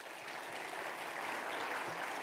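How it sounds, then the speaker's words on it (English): Audience applause at a House Democratic town hall on health care, a short, steady wash of clapping heard at a distance and fairly faint. "Give him a round of applause"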